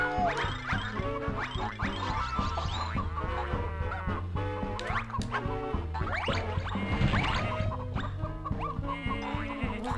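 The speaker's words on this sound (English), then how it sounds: "These chicken really make noise" Layered bleating and clucking animal cries from chickens in the Bubsy video game, constant and busy over a steady musical backdrop for the full stretch.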